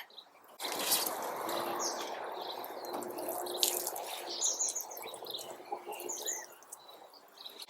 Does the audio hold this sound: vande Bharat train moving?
no